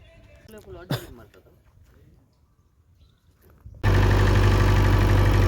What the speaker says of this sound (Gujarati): હવે જનરેટર શરૂ થઈ ગયું છે, તો પાછા કામે બેસી રહી।